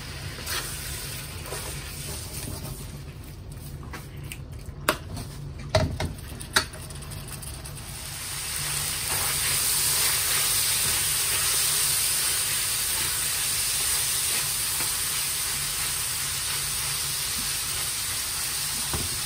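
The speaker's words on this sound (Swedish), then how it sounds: "Nu vi ska steka och komma tillbaka efter." Beef begins to sizzle in a hot pan, a steady crackling hiss that swells after a few soft knocks and stays constant.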